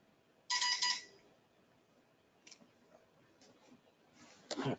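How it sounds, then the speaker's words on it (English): A mobile phone sounds a short, loud electronic alert burst, then faint intermittent beeps and another loud burst, heard in a quiet room during embroidery digitizing work. "I apologize for my phone kind of going crazy."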